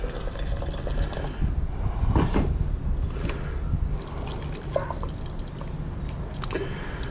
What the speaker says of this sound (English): So the first of 3 water washes.